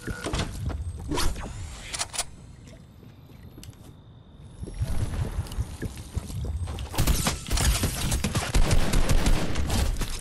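Gunfire in Fortnite during a close fight, with a few sharp shots early on followed by a dense, sustained volley of rapid shots with no talk.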